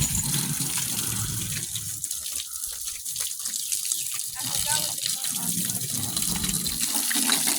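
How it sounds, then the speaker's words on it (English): Water runs steadily from a tap outdoors along a trail, a loud continuous hiss and splash filling the whole stretch, with faint voices in the background. "turn the water off, kids."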